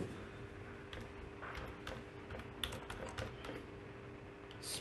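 Typing a command on a computer keyboard during router configuration: a steady patter of quiet, close key clicks with uneven rhythm and brief pauses, no voice over it.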